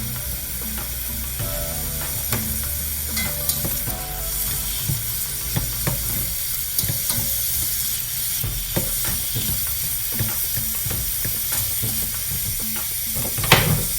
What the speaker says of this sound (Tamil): ஃப்ரை பண்ணிக்கலாம்